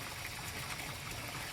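Water gushes hard and steadily from a newly drilled deep well, a continuous broadband rushing roar with no pauses.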